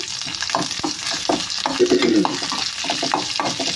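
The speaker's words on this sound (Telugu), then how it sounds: "దీనిలో ఇప్పుడు పోపు దినుసులు వేసుకుందాం" Tempering spices such as dried red chillies, curry leaves, mustard seeds, cumin and urad dal frying in oil, a loud close sizzle with crackling pops and scraping stirs throughout.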